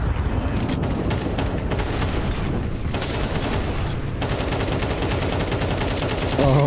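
Gunfire in Counter-Strike 2: dense bursts of rapid automatic shots crackle almost without pause, loud and close, with brief gaps between volleys and a sharper mechanical clatter near the end.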